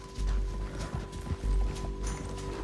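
Horse hooves from Red Dead Redemption 2 clop in a steady running rhythm under a low game score and ambient noise, fairly close and moderately loud throughout.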